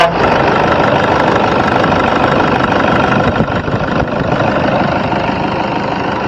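A 2012 Toyota Innova diesel engine idles close up, a loud, steady clattering rumble with knocking texture that holds evenly for several seconds.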